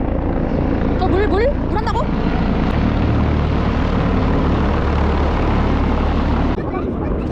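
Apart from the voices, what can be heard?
helicopter flying overhead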